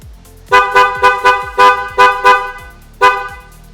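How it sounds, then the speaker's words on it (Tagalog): The horn of an NXT Storm XR electric motorcycle honks loudly in a series of short blasts, about eight beeps in quick uneven succession, with a brief pause before a final one. "paparinig ko sa inyo guys kung gaano kalakas yung busina ni Storm XR."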